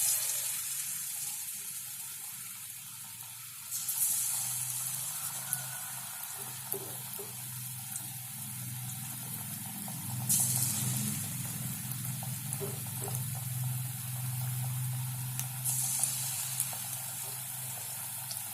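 Banana fritter batter frying in hot oil, a steady crackling sizzle that swells as more pieces drop in, close and continuous for the whole stretch with no talk.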